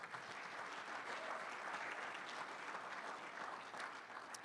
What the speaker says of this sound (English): Give that a nice round of applause.